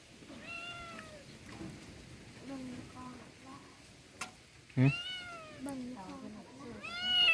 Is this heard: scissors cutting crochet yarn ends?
no